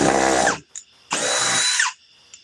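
A Ryobi power drill driving a bit, two loud whirring bursts of about half a second each separated by a short pause, close and alone.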